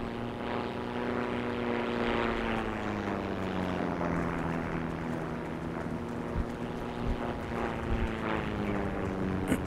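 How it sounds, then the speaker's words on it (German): A propeller airplane drones overhead in the World War II shooter game Heroes & Generals, a steady low engine hum with a slowly falling pitch that stays loud throughout, with light clicks and wind-like noise underneath. "Flugzeug drüber."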